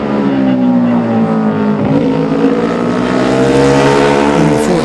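Classic Honda racing motorcycles at the Classic TT junior race, 2018, engines roaring loudly and continuously with rising and falling pitch as the bikes pass, no talking.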